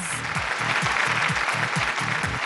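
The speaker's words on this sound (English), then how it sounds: "A big round of applause once again for all the winners." Sustained applause from an awards ceremony audience for the winners, a dense loud wash of clapping over a pulsing rhythmic music beat.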